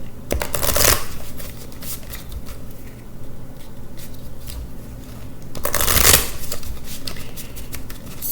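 A deck of Cosmic Oracle or Goddess Oracle cards is shuffled by hand in two close, crisp riffling bursts, with quieter card handling and soft rustling between them and no talking.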